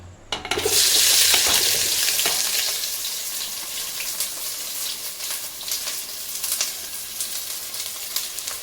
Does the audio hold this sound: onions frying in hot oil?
yes